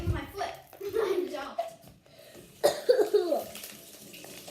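A child's cough at a table while slime is being made, with a couple of rough coughing bursts amid child speech and nearby handling noises.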